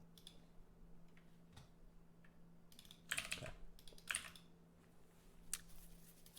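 A computer keyboard is typed on in quick bursts of light clicks, with a few louder clustered strokes and pauses between them over a faint steady background hum.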